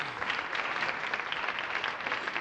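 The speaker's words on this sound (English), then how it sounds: "Applause break." Studio audience applause on a television variety show, a steady, fairly faint wash of clapping hands that carries on without a break.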